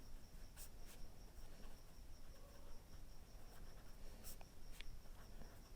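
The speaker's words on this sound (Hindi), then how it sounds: "यहाँ पर अब हम सेकंड सवाल को लिखते हैं" Marker or chalk scratches on a board while an answer to a class 10 trigonometry question is written out, with short faint strokes over a steady background hum.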